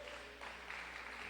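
Applause from a church congregation rising to clap during a sermon, a steady dense wash of many hands held at a moderate, fairly distant level for a brief moment.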